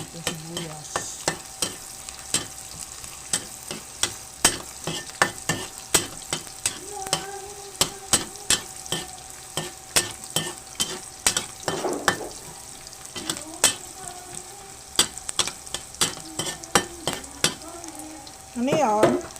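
Garlic and onion sauté in a pan for ginisang repolyo, with a quiet background sizzle broken by repeated sharp clinks and scrapes of a utensil stirring against the pan, irregular and close, with no talking.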